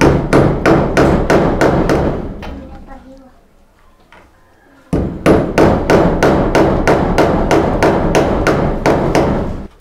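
Loud, evenly spaced hammer blows driving a nail, a rapid series of sharp strikes, then a brief pause with quiet voices and handling, then another run of steady blows.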